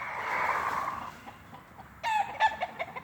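Blue-faced chickens cluck and call nearby, a drawn-out squawk first, then a quieter pause and a burst of rhythmic clucking and crowing-like calls.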